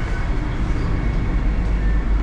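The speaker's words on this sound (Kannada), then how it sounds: "1 ನಿಮಿಷ ಆಗಲೇ ಟ್ರೈನ್ ಹೊರಟ್ಬಿಟ್ಟಿದೆ." Vande Bharat express train pulling out toward Mysuru, heard from inside as a steady low rumble of wheels and carriage noise, loud and continuous with no talking.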